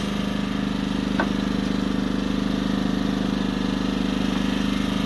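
At an off-grid cabin, a generator idles steadily with its throttle down, giving a loud, even engine drone with no talk over it.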